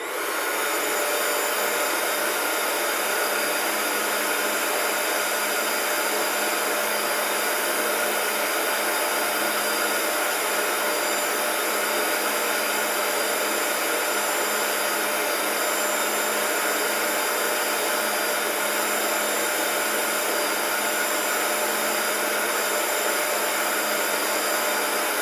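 Bissell ProHeat 2X Revolution carpet cleaner running on carpet, a steady loud whirring motor drone that continues unbroken throughout with no talk.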